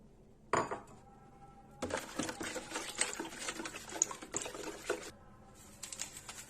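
An egg is added to a batter of oil in a bowl and mixed in, giving a close, wet clattering and scraping that runs for a few seconds after a brief knock, with no talking.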